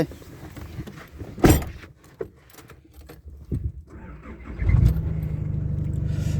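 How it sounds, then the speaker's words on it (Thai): Car being driven and parked, a close engine rumble under scattered knocks and thumps, with the engine note rising and holding steady toward the end. "เอารถไปไว้เลย นี่ขับไป"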